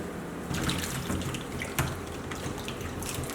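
Mushrooms being washed in a bowl or sink of water, with close sloshing and splashing plus a few drips and trickles, no voices.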